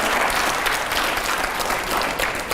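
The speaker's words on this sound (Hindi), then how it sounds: "जोरदार तालियां हो।" Loud, sustained applause from a large TV studio audience during a televised rapid-fire interview, dense continuous clapping filling the whole clip without pause.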